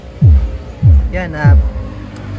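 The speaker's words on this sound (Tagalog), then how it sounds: "Yan yung tunog ng ating sub mga boss." Subwoofer driven by an integrated amplifier thumps out three deep bass hits in a slow, even pulse, loud and close, with a brief spoken word between them.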